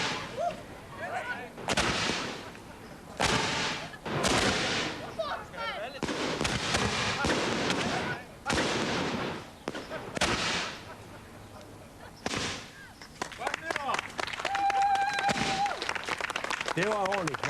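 A birthday fireworks battery firing a long sequence of loud booming bangs, heavy at first and then crackling into quicker pops near the end, with people talking between the blasts.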